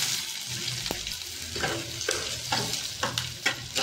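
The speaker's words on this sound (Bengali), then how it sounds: "পেঁয়াজটা ভাজা ভাজা হয়ে গেছে" Onions sizzle in hot oil with bay leaf, cinnamon, star anise and cardamom while a spoon stirs and scrapes the pan in repeated strokes, close and alone without talk.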